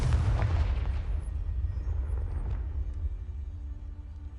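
Confringo, an explosive spell in the video game Hogwarts Legacy, goes off with a deep booming blast that rumbles and slowly fades over several seconds, loud and close.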